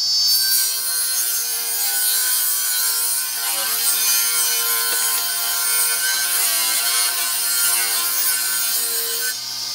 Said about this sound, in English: I just go ahead and freehand the straight edge down to give me a semblance of a straight edge up against the rip fence